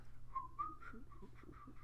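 A person attempts to whistle a tune from The Jungle Book, producing a few faint, wavering whistled notes with breathy gaps, quiet and close, with no talking.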